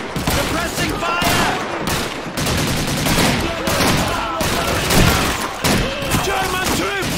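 Dense gunfire and explosions in the World War II shooter Call of Duty 2, rifles and machine guns crackling almost nonstop with heavy booms, loud and busy throughout, with shouted voices mixed in under the battle.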